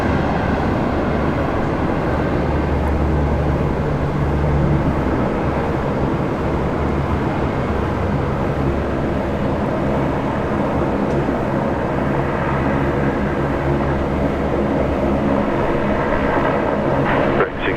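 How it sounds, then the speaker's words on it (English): A QantasLink Embraer jet at Sydney Airport produces a continuous loud, low engine roar and rumble that holds steady throughout, with faint voices underneath. "We've got an Embraer here."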